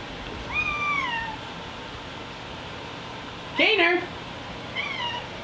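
A six-month-old kitten meows in rising-falling cries, two clear meows around a louder, harsher call, with a voice calling out briefly over a steady hum.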